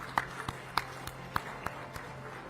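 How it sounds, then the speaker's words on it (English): A handful of sparse, evenly spaced claps ring out at an awards ceremony for the Times Network India Health Awards 2024, fairly quiet and thin rather than a full crowd ovation. "Ladies and gentlemen, let's keep the claps rolling."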